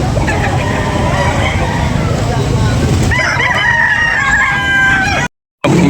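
A rooster at an outdoor chicken sale crows loudly and close, with more crowing and clucking from other fowl and a busy crowd murmuring under it, before a brief dropout.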